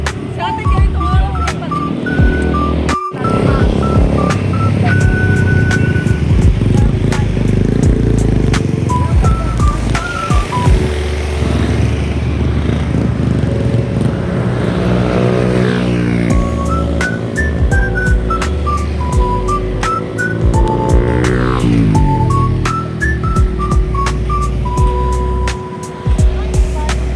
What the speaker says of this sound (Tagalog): Marami mga mabibilis ang motor dito.